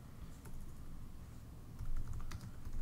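Computer keyboard typing while entering printer settings, a quick irregular patter of key clicks at moderate distance over a low background hum, with no talk.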